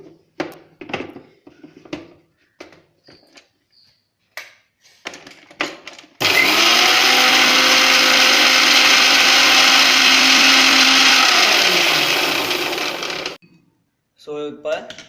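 A kitchen blender grinds black cumin seeds into a coarse powder for a carrot hair pack, a loud steady roar lasting about seven seconds, with someone talking before and after and seeds rattling in the jar at the start.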